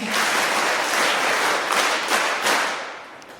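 Audience applause at a Women's Day event at a girls' residential school, a burst of many hands clapping with some sharp individual claps, loud at first, then fading out toward the end.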